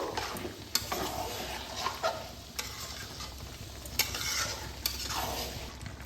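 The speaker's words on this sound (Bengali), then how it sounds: "ভেজে রাখা আলুটা ভালোভাবে মিশিয়ে নেব" Fried potatoes and chicken being stirred together in a yogurt-based curry, with a spoon scraping the pan in steady strokes and sharp clinks over a low, constant sizzle. Close and moderately loud, with no talking.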